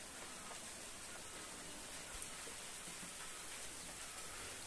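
Light rain falling over farm fields on a dark, stormy evening, a faint, even hiss of drops that stays steady throughout with no voices.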